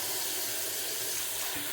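Water pours steadily into a pot of turkey noodle soup, a continuous close splashing rush with no talking.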